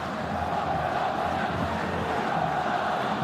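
A crowd roars steadily in a football stadium during a World Cup qualifier between Jordan and Uruguay, a dense, continuous wash of distant cheering with no pauses.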